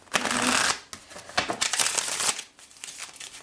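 Tarot cards being shuffled by hand in close, crisp riffling bursts, about three rounds separated by brief pauses, loud and dry.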